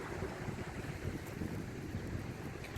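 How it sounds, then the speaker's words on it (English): Steady breezy wind outdoors by the sea near a fishing pier, a continuous loud rush of wind buffeting the microphone with faint surf underneath, no talking. "It's very breezy."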